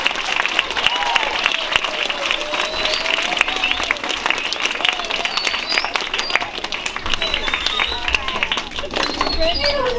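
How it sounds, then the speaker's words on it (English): Audience applause at a school spelling bee, steady dense clapping from a crowd of children and adults filling the whole stretch, with chatter and voices mixed in underneath. "You may applaud."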